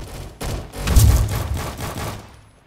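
Loud, close bursts of automatic gunfire from a Roblox shooter game rattle in a rapid volley for about two seconds, then fade out abruptly.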